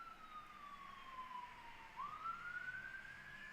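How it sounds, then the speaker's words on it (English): A police siren wails faintly in the distance, its tone sliding down and then back up as it goes by. "Police siren going by."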